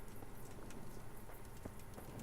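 Horse hooves clip-clop steadily in a medieval Kingdom Come game world, a soft, even rhythm of repeated hoof strikes heard at a moderate distance with no one speaking.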